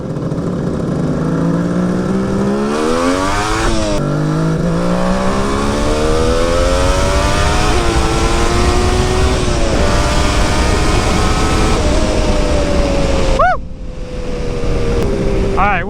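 A Suzuki GT550 two-stroke triple motorcycle revs hard through a rolling burnout, its loud buzzing engine note climbing and falling in repeated surges, then dropping briefly before revving again up close.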